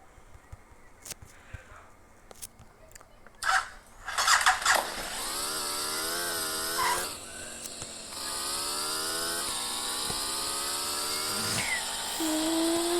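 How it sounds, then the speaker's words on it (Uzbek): A motorcycle engine is kicked over after a few clanks and sputters, catching and settling into a steady idle that revs up and down for several seconds. "Shunaqa bo'ladi mototsiklni tepib ketish."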